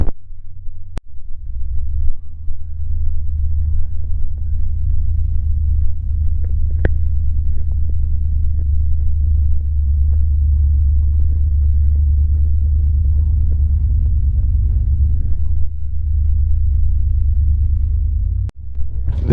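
A Ford Falcon Futura's six-cylinder engine idles at a car show with a deep, steady, throbbing rumble that holds close and even throughout. A couple of sharp clicks come near the start and near the end.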